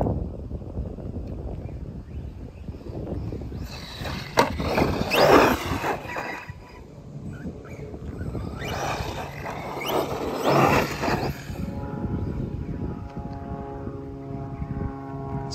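ARRMA Kraton 4S RC car running, its electric motor whining in two loud bursts that rise and fade, with rough outdoor rumble and wind noise between them.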